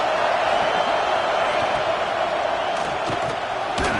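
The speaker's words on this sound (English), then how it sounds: "the crowd coming to life here, trying to help this defense down in the red zone" Crowd at an American football game roars steadily as the defense holds in the red zone, a broad continuous wash of cheering and shouting with a few sharper whoops near the end.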